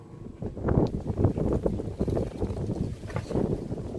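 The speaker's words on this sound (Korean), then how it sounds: "오늘 바람이 많이 부네요" Strong wind gusts buffeting the microphone outdoors, a steady low rumbling roar that swells and eases over a few seconds, with no talking.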